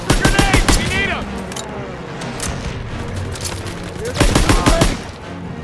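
Heavy gunfire from a World War II battle in Call of Duty: WWII, with dense bursts of rifle and machine-gun shots, loud and close, under shouted voices and battle noise.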